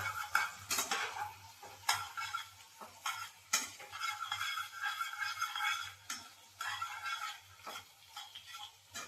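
Yellow bell peppers stir-fried in a pan for an Indo-Chinese chili chicken, soft sizzle with repeated spatula scrapes and metallic clinks in uneven bursts, fairly quiet and close.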